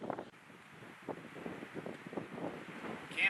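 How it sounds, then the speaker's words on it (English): Steady wind buffeting a microphone on a cloudy morning at Sylvan Lake, Montana, a continuous low rumbling roar with gusting swells and no voices. "But of course, it's still windy."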